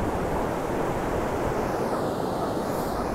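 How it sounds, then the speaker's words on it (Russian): Long rolling ocean waves surf onto the wide San Sebastián city beach, a constant loud roar of breaking water mixed with wind buffeting the microphone. "Волны здесь довольно приличные, длинные, прокатистые такие"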